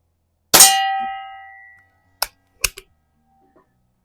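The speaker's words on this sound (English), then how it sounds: "that's a nice sounding gong" A pellet from a Walther LP53 or Crosman air pistol rings a hanging metal gong target suspended on 550 cord, one loud bright clang decaying over about a second, followed by a few faint sharp ticks.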